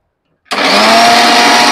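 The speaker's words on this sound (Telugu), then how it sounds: "ఎందుకంటే పుదీనా శుభ్రంగా కడిగేసాను, మిక్సీ పెట్టేద్దామండి." A mixer grinder starts abruptly after a moment of silence and runs at a loud, steady whir while it blends washed fresh mint leaves into a paste for mint rice.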